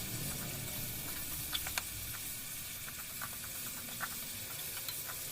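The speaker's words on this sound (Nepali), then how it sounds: "टमाटर पाकुन्जेल टमाटरलाई मजाले कुच्याउनु पर्छ डाडुले।" Cooked tomatoes being crushed with a ladle in a pan for a kinema curry, faint scattered scrapes and soft taps over a steady low sizzling hiss, close and quiet with no talking.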